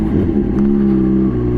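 A Honda CBR 600 RR HRC Edition motorcycle fitted with an Akrapovic exhaust holds a loud, close, smooth engine note, swelling slightly at first and then droning steadily.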